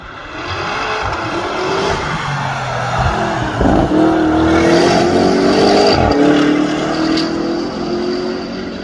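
A BMW prototype car, likely a 2 Series, roars past at close range at the Nürburgring, its pitch rising and falling with a rough, raspy edge as if the turbo were broken, with other engine noise continuing behind it.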